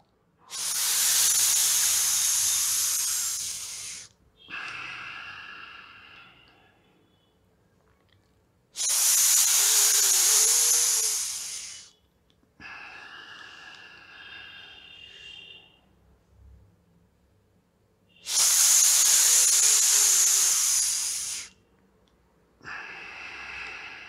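Forceful pranayama breathing with pressure comes as three long, loud hissing breaths, each lasting several seconds, with softer, shorter breaths between them, close and steady in a regular cycle.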